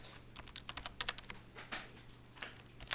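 Python code being typed on a computer keyboard: irregular bursts of crisp key clicks at close range, clustered in quick runs with brief pauses, over a faint steady hum.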